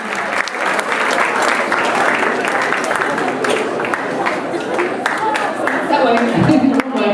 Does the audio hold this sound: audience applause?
yes